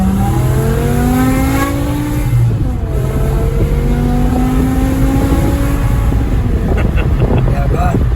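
In sports mode, a BMW E60 M5 with a V10 engine revs up and down through several rising and falling sweeps on downshifts. The engine is heard loud from inside the car over wind and road roar.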